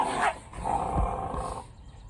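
Pomeranian puppies squabbling with each other, close and fairly quiet, giving short growls and yippy barks across a couple of seconds.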